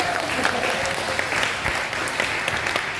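A congregation applauds steadily during a sermon, a dense, even wash of clapping that holds at moderate loudness throughout.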